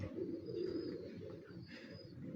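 Pigeons coo on a Faisalabad rooftop loft, soft throaty rolling calls repeating close by against a quiet background, with no talking over them.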